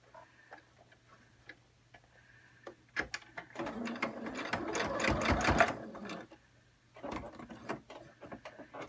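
A sewing machine fitted with a quarter-inch quilting foot stitches a dart in a fabric surgical mask: a few isolated clicks, then a close, loud burst of rapid mechanical stitching for a couple of seconds, then a shorter second run.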